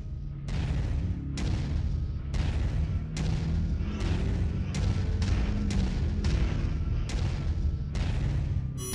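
A rapid volley of long-range missiles launches from a mech in Mechwarrior 5 Mercenaries, each one a loud whooshing blast, about a dozen in a steady rhythm over a constant heavy rumble, with no talk.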